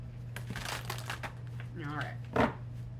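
Tarot cards riffle and flutter in short crisp bursts, with a louder snap near the end, over a steady low hum.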